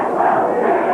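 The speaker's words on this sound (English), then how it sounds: "the crowd is yelling, "Fatwell's chicken."" A wrestling arena crowd at a 1982 televised match yells a chant together, a dense, loud, continuous roar of many voices.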